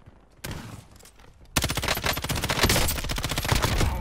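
M13 assault rifle in a Call of Duty video game, firing rapid full-auto bursts, first a short quieter burst, then a long loud sustained stream of rapid shots close up.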